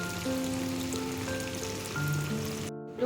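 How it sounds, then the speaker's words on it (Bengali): Kolkata-style bhetki fish fry dropped into hot oil gives a steady, close crackling sizzle that runs unbroken, with faint tonal music underneath, then cuts off abruptly near the end. "আমি তেলে সেকেন্ডটা ফিশ ফ্রাইটা ছেড়ে দিলাম।"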